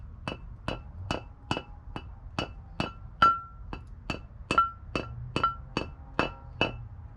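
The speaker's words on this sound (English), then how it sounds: "Probably help if I had a regular hammer instead of my big ass copper hammer" A large copper hammer tapping a steel brake part, a string of about fifteen sharp metallic clinks at an even, unhurried pace, close and fairly quiet with some ringing between strikes.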